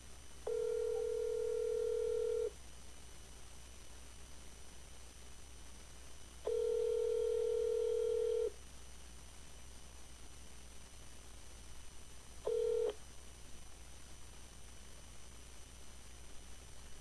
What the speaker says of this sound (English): let's call that number